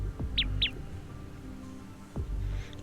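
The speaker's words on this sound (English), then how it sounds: "Anna chirp circles in the air and gracefully lands on its master's shoulder, chirping at Zero" Bird chirping in a fantasy game scene, two short high chirps close together near the start, over low ambient music with a couple of soft whooshes.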